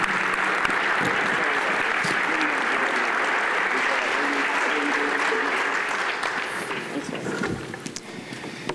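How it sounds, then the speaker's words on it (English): A housing summit audience gives the keynote panel a loud, sustained round of applause, a dense even roar of clapping that fades over the last couple of seconds as a voice begins. "So let's give them all a round of applause"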